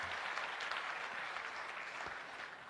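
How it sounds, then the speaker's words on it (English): Audience applause at the BIDA Summit 2025 investment event in Bangladesh, a steady, dense wash of many hands clapping in a large hall, moderately distant and fairly quiet, holding evenly throughout without any voices. "Can I please ask all of you to give a big round of applause to all the"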